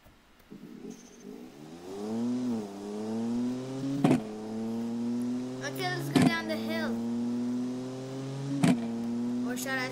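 A lowrider car drives in the BeamNG.drive video game, its steady engine tone rising and holding, with a few sharp knocks or clunks breaking through.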